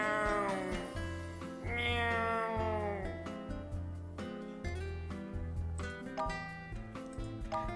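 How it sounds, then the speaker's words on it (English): A stray cat meows in the video game WILL: A Wonderful World, several drawn-out, pitch-bending calls close up over a steady low musical backdrop. "And here's Spotty. A noble stray cat from Korea."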